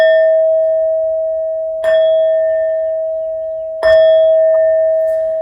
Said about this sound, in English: These next 12 bell sounds are to align us and to bless this reading.